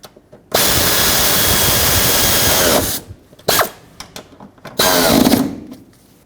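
A power tool runs in a long steady whir, then fires in a few shorter bursts, threading rear shock absorber bolts on a 2011-2018 Volvo S60, close and loud.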